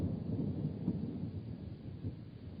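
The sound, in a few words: thunder from a thunderstorm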